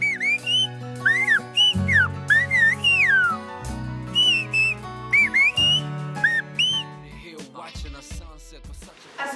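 Melodic whistled language from the island of La Gomera, with rising and falling pitch glides, phrases repeated in short bursts over a sustained low drone, ending in scattered noisy sounds.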